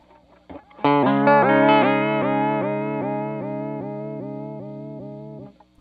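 A sustained distorted tone through a Chase Bliss Audio Warped Vinyl vibrato chorus pedal set to square wave modulation pulses in a steady, choppy on-off rhythm, loud at first and then slowly fading over several seconds.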